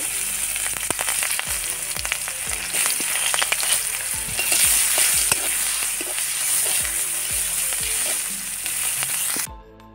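Onions sizzle steadily in hot oil in a pan, a loud continuous crackle with occasional stirring scrapes, cutting off abruptly at the end.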